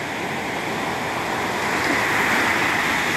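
Powerful ocean waves crash on a shore in Vietnam, a loud continuous roar of surf that swells slightly toward the end with no voices.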